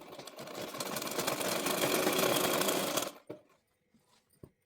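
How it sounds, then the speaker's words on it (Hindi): A sewing machine stitching a palazzo pant runs in a loud, steady mechanical whir for about three seconds, then stops, followed by a couple of sharp clicks and near silence. "तो सिलाई लगा लेते हैं फटाफट"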